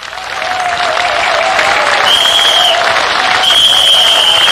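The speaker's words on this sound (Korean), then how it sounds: "관객들은 그날도 전옥의 연기에 열띤 환호와 박수를 보내주고 있었습니다" A theatre audience applauds and cheers, a dense sustained wash of clapping that swells in the first half-second and then holds loud and steady. Faint tones sit over the crowd.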